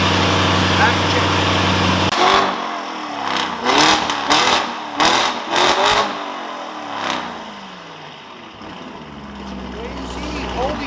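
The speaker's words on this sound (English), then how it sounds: "This is just exhaust." A car's exhaust roars through a string of sharp revs, about six quick blips in the middle, then settles back to a steady loud idle. Voices are faintly audible around it.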